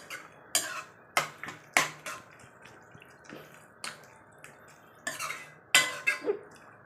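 A spoon scrapes and clinks against a metal pot of poori masala in irregular strokes, close by, with no talking.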